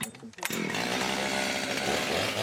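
A chainsaw cuts through a rhinoceros horn, snarling loud and close in a continuous buzz after a short start.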